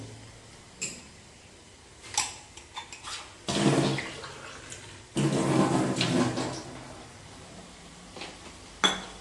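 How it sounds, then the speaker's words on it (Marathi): Water is poured into a cooking pot in a home kitchen, two splashing bursts of pouring separated by small clinks and taps, fairly quiet and close. "त्यात आपण पाणी घालू"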